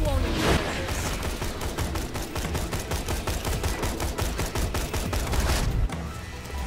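Rapid, relentless automatic gunfire in Borderlands 2 during an arena fight, a dense stream of loud shots that fires steadily for several seconds before cutting off abruptly near the end.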